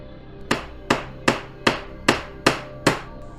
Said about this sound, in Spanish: Nuevamente martillazos se escuchaban.